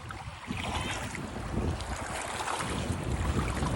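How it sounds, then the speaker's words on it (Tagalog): Rough sea waves wash and crash around a moving boat, with heavy wind buffeting the microphone throughout. "Ang lalaki ng alon dito."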